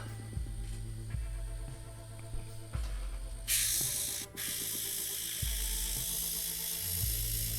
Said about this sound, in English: The airbrush. Mostly air.